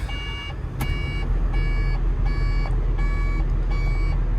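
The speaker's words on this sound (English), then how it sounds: "You know it's a bad error code when the beeping doesn't stop." A machine's error-code alarm beeps in regular bursts, steady and insistent, over a constant low engine-like rumble with no voices.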